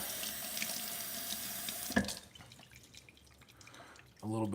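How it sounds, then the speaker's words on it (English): Tap water running into a can of chili at a kitchen sink, a steady splashing stream that cuts off, quiet pause, then a louder burst of running water at the end. "Okay, and I'm also going to hit it with a little bit of"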